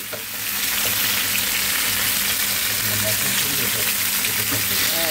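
Sardine fish pieces frying in a pan, a loud continuous sizzle and crackle held steady throughout, close by, with people talking faintly underneath.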